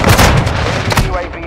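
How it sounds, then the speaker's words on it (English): Cruise missile strike explosions in Call of Duty: Modern Warfare II roll out as a loud, dense burst of booming blasts and gunfire, close and continuous with rumbling low-end and sharper cracks layered on top. "Hostile cruise missile incoming."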